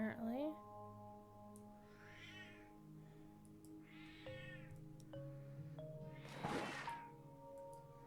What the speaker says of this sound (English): My cat would like to say hello to everybody, apparently.